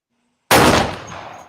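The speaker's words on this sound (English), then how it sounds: "I got my gunshots already in case I gotta use my shit" A single loud, close gunshot-style blast used as a sound effect during a live boxing reaction stream, cracking sharply after a brief silence and then decaying into a rough, lingering tail.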